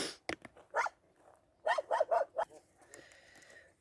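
Several small dogs bark in quick bursts, a single yip followed by a rapid cluster of barks, fairly close and clear over a quiet background.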